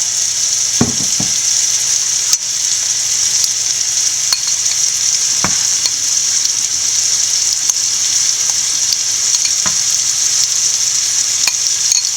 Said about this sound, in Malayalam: ഇതിനാവശ്യമായുള്ള തേങ്ങ നമുക്ക് വറുത്തെടുക്കാം വേറൊരു അടുപ്പിൽ ഒരു പാൻ വെച്ചിട്ടുണ്ട് കുറച്ച് എണ്ണ ഇട്ട് ഒഴിച്ചു കൊടുക്കാം